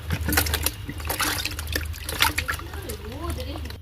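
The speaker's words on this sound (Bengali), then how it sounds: "এবারে কলের জল নিয়ে এসে মাছটা ভালো করে ধুয়ে নেব।" A scaled hilsa fish is rinsed under running tap water, with a close trickling, splashing stream that rises and falls while a voice is heard faintly underneath.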